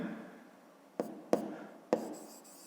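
A pen or pencil writes out a fifth-grade math exercise by hand, giving faint scratching strokes broken by three sharp taps on the paper against a quiet background.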